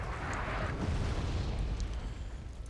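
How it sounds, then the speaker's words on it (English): An airstrike explosion in the Wargame Red Dragon video game booms as a sustained, rumbling low blast that fades slowly over several seconds, fairly quiet overall with no talk. "And here comes the airstrike."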